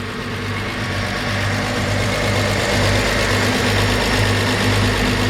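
A 1951 Chevrolet 3100 Thriftmaster pickup with a remanufactured 216 six-cylinder idles steadily after a cold start, a close, even, loud rumble with a smooth vibrating hum that holds throughout.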